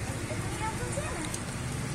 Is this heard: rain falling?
yes